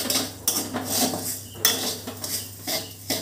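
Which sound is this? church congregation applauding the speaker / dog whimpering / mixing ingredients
mixing ingredients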